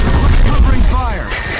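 Bursts of covering gunfire rattle in the shooter game Black, loud and close, with booming low thuds and overlapping shots, and a voice speaks briefly in the mix.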